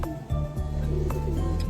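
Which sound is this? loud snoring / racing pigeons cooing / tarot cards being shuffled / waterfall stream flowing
racing pigeons cooing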